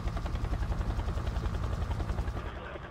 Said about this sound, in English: Who the hell landed a Chinook on the rooftop?